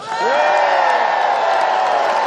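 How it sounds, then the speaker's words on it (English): A large crowd at a Newcastle unity rally cheers loudly, swelling quickly into a sustained roar with whoops and scattered clapping that holds steady. "Please give them a massive cheer."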